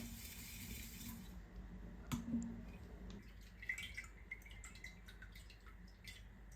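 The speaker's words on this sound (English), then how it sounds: "I pour all the liquid that flowed through the colander and escaped from the plums into bottles." Plum liquid drips through a colander, faint scattered drops with one sharper plink in the middle, set against a quiet background hum.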